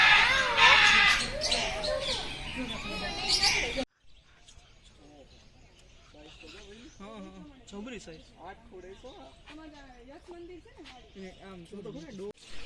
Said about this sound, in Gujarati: દેખાય છે લવ બર્ડ